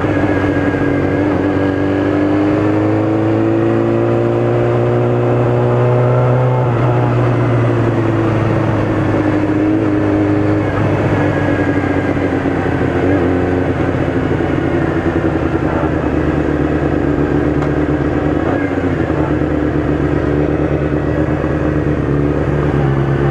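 Small motorcycle engine, likely a 250, runs steadily close by and revs with changing pitch as the clutch is dropped, its harmonics rising and falling, with no talk over it.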